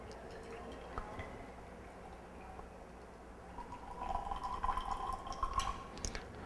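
Water poured from a graduated cylinder into a calorimeter during a school chemistry experiment: faint scattered drips and trickles at first, then a louder, steadier liquid fill in the second half, close by and without talk.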